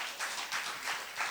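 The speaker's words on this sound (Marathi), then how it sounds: "पुण्यात टाळ्या जास्त वाजल्या की थांबायचं असतं बरं का" Audience clapping during an interview in Pune, soft even applause from a crowd rising and falling in waves, fairly distant and with no speech.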